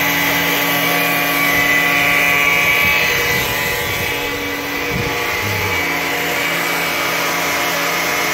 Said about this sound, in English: That's our radiator cooling system.